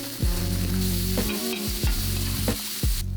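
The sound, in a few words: mushrooms browning in a pan over open fire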